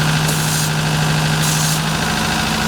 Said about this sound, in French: J'entends que le moteur accélère un tout petit peu lorsque je pulvérise à ce niveau-là.